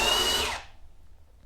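A Hychika HDB18F brushless cordless hammer drill whines loudly in reverse for about half a second, backing a bit out, then winds down and stops, leaving a low hum.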